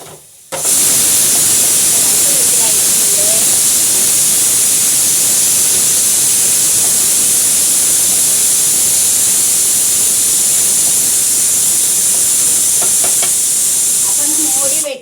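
Tomato dropped into a pan of hot coconut oil, frying with a loud, steady hiss and sizzle that runs close and unbroken for about fifteen seconds.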